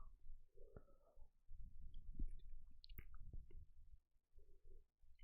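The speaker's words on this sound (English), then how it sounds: "You guys will also probably hear me chewing on the bits that I do decide to eat." Soft, wet chewing on pieces of pomelo fruit, close to the mic, with irregular squishy bites and a few small clicks over several seconds.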